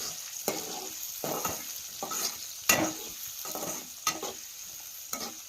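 Chopped onions fry in oil in a village kitchen, a soft sizzle broken by repeated scraping strokes of stirring at a loose, regular rhythm, close and moderately quiet.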